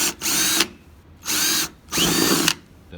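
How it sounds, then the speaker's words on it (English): A power drill whirs in three short bursts boring pilot holes in a cooler, high-pitched and close, with brief pauses between each run. "drill my pilot holes so I can get the jigsaw in there"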